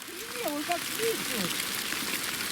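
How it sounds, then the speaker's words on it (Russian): Large hail falls on cedar and spruce trees high in the Altai mountains, giving a dense, steady patter of ice striking the branches and ground. A voice talks over it throughout. "Народ, начался град"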